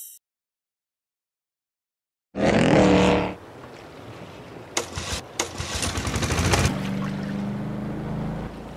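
A vehicle engine in the Henry Stickmin Collection game bursts in loudly after a couple of seconds of silence, roaring briefly before settling into a steady rumble with scattered clanks and knocks.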